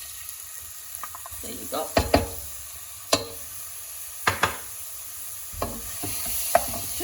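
Ground onion frying in a pan for chole, heard as a quiet sizzle under a series of distinct scraping and stirring clacks, with a brief spoken comment.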